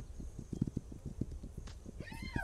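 Horse in the video game This Land Is My Land, with steady, close clip-clop hoofbeats throughout and a whinny rising at the end over a faint ambient bed.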